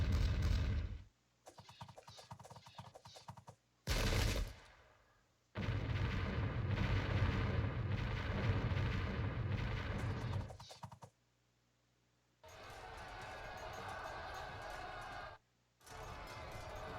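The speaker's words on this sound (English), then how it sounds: "they're just going to have to take some arrow and cannon fire" Battle sounds from the Pike and Shot video game at Pinkie Cleugh, 1547: loud bursts of cannon and gunfire come in several separate volleys with short pauses between them, rough and dense, with no speech over them.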